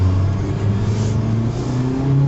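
Steady engine drone from a 2011 Mitsubishi Outlander Sport with a variable transmission, heard from inside the cabin, held at fairly high revs with only small pitch shifts while the shifters are worked, loud and continuous.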